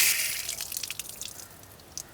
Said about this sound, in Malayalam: നല്ല സ്പീഡിലാണ്ട് പൈപ്പ് തുറന്നിട്ടാലേ ഇതിനുള്ള പൊടിയൊക്കെ ഇങ്ങനെ പോയിക്കോളും